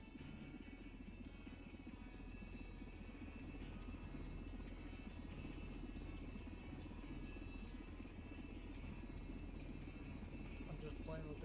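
A helicopter rotor drones steadily in SimplePlanes, a continuous low buzzing hum with a faint higher whine that holds nearly level throughout, while a person talks over it.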